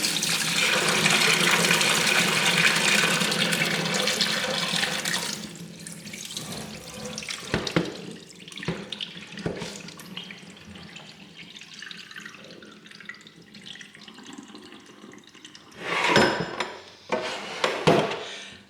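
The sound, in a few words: brine poured into sink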